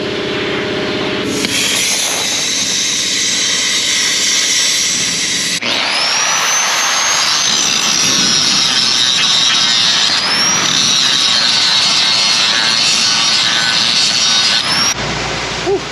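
Cutting tool slicing out old engine mounts on a 1955 Chevrolet Bel Air, a loud continuous high-pitched grinding whine with rising squeals, close and unbroken across the whole span.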